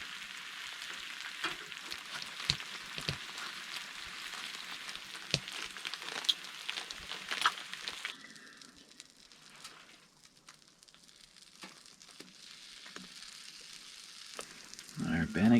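Bannock mixed in a bag sizzles and fries in a pan during a winter ice-fishing camp on a Labrador lake, a steady close crackling hiss with occasional pops and clatter.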